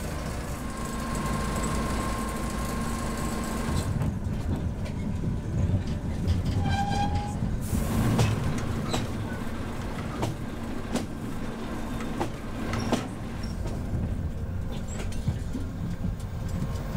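A morning train passes on a railway line in Myanmar, a steady loud rumble of rolling wagons with brief horn-like tones partway through, continuing throughout without speech.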